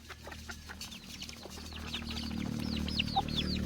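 A black fighter rooster clucks in a rapid run of short calls, close and fairly loud, over a steady low background hum.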